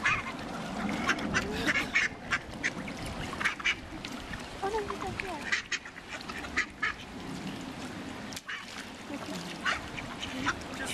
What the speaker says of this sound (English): Competing with ducks.